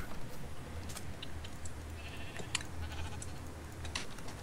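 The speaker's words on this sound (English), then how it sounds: "I guess I should shave the sheep" Sheep bleat in the MoonQuest video game, faint bleats over a low, steady game background hum with a few light clicks and chimes.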